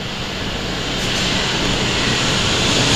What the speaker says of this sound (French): attention à l'avion, incroyable